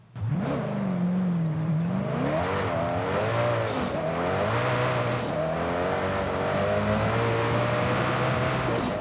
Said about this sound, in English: now we get to go ahead and take a listen to that wonderful 5-litre engine